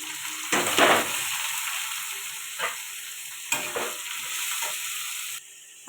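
Onion and tomato fry in a pan for ghugni, a moderate, steady sizzle with a couple of louder hissing surges as the pieces are stirred, fading slightly near the end.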